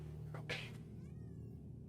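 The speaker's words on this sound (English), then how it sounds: "Has that cat been in here the whole time?" A cat indoors gives a single short meow, faint against a steady low hum in the room, with no one speaking over it.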